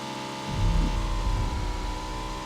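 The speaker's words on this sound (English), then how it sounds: "While I use this motorbike to go to safe zone, will my enemies be able to go to safe zone?" A motorbike engine in PUBG Mobile drones steadily, swelling in loudness after a quiet start into a continuous low humming whine.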